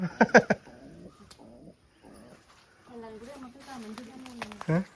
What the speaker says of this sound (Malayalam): പ്രാവുണ്ടല്ലോ ഇവിടെ